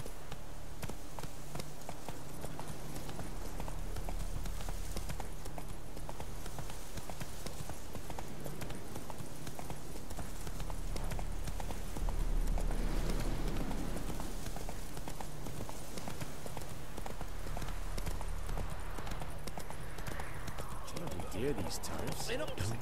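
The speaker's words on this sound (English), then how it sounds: "Slow now. Whoa. Run, Roach" Horse hooves in the video game The Witcher 3 beat a steady, rapid clip-clop throughout, mid-level and continuous, as the mount gallops under game music, with a voice speaking over it.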